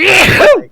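A single close, loud sneeze from a person, a short sharp burst with a breathy tail fading quickly, cutting into casual speech.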